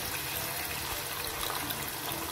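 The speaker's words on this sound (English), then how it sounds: "I will add a bit of water and let it cook a bit." Water pours steadily into a cooking pot of broiler chicken in a continuous, even rush, soft and close, with no talking.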